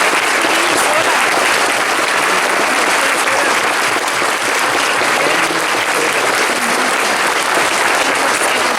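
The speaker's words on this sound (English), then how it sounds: "Big round of applause for Adam, our availability." An audience at a closing ceremony bursts into loud, sustained applause for Adam, a dense wash of clapping from many hands that runs unbroken throughout.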